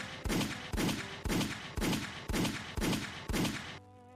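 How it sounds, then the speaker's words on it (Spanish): A rapid series of gunshots at a factory entrance, seven or eight loud, sharp cracks evenly spaced about half a second apart, each with a booming tail, and no voices. "8 disparos."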